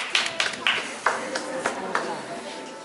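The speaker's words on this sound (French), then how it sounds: "On a applaudi notre assistant qui a fait une belle comète." Audience applause for an assistant at a science demonstration of a comet, made of a few distinct claps in an uneven rhythm that quickly thin out, close and moderately loud.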